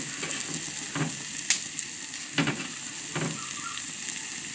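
Raw onion sizzles and fries in a pan with tomatoes for a potato dish. A soft, steady frying hiss is broken by several scraping stir strokes and clinks of a utensil against the pan, with no talking.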